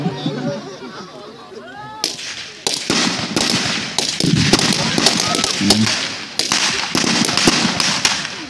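Voices talk at first, then a series of loud, sharp explosive bangs erupts close by on a military training field, bursting repeatedly in quick, irregular succession.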